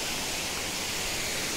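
Steady, dense rush of water pouring down Chirchiri waterfall in Jashpur, Chhattisgarh, a constant hissing roar with no pauses, fairly soft and even throughout.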